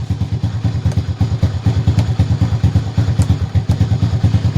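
A 2016 Rusi Swish Mono scooter with a faulty battery starts on one press and settles into a close, steady idle, its single-cylinder engine putting out rapid, even low thumps with light mechanical clatter.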